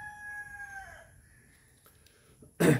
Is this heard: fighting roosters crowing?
yes